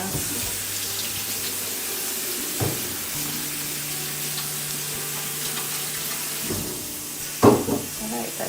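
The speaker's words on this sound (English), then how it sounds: "That's starting to sizzle." Chopped vegetables for a chicken pot pie sizzle steadily in a pan in a farm kitchen, a continuous hiss with a few clatters and knocks of utensils near the end.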